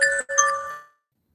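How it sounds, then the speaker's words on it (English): An alarm chime rings out in two quick bright tones like a doorbell ding-dong, close and clear, then fades to silence in about a second. "That was my alarm."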